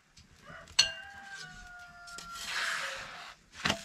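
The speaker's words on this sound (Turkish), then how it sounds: "Horoz ben de geliyorum diye." Rooster crowing in a village yard, a drawn-out, fairly faint call at moderate distance followed by scattered rustling and a short sharp noise near the end.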